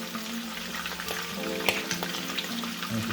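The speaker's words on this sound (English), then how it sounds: "It only takes a couple minutes for shrimp" Shrimp cakes frying in olive oil and butter give a steady, close sizzle and crackle with light stirring and pan scrapes, no voices.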